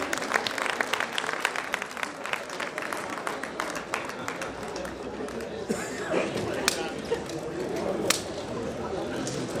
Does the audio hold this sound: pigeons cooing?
no